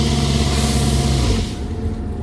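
An MCI bus engine with a newly repaired jake brake rumbles loudly as the engine brake engages while coasting, a rough, rapid pulsing drone that drops away after about a second and a half, leaving a quieter idle.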